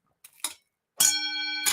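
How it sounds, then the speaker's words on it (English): A bell rung once after a couple of soft clicks, giving a bright metallic strike with a clear sustained ringing tone that holds and then gets struck again, close and loud, with no talk. "I will go ahead and ring that bell and clear a path for you"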